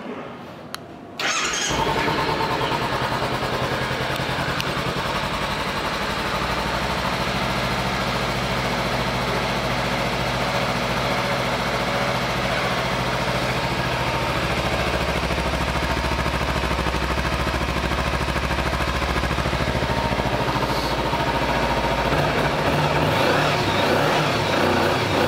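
A 2016 Kawasaki Ninja 300 ABS motorcycle engine starts and then idles steadily and loudly at close range for over twenty seconds, with a faint voice underneath.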